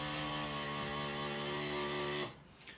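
A Philips Perfect Draft beer machine runs its mechanism after the doors are shut, a steady mechanical hum with a tonal drone that cuts off after about two seconds.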